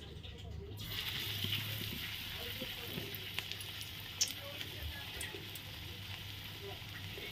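Papaya kofta sizzles in hot oil in a wok, a steady soft crackle and hiss with occasional sharper pops, fairly faint and close.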